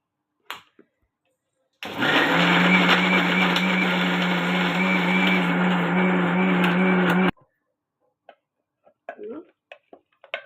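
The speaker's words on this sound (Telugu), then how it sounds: "మనం మిక్సీ పట్టుకుందాము" A mixer grinder whirs loudly for about five seconds, grinding green chillies for chutney, then cuts off abruptly, followed by a few faint clicks and clatter.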